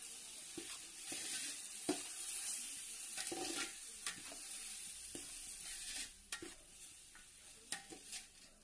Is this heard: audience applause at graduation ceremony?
no